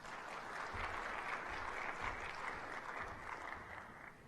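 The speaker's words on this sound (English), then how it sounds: "can we please keep the round of applause going for Mr. Tigidam" A large audience at an African opening ceremony applauds in a steady, continuous wash of clapping that holds at an even level throughout, with no voices rising above it.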